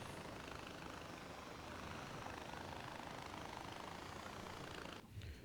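A helicopter in the video game Far Cry 4 gives off a steady, dense rotor and engine roar that fills the clip evenly before dipping briefly near the end.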